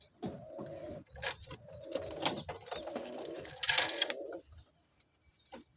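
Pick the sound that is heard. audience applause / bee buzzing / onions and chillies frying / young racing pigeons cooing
young racing pigeons cooing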